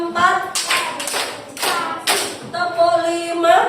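A classroom group claps in a counted rhythm, with four sharp bursts of claps evenly spaced over the span and a teacher's voice leading between and over them.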